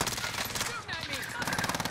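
Rapid video game gunfire in a military shooter, bursts of automatic fire crackling steadily throughout under a voice calling out game actions.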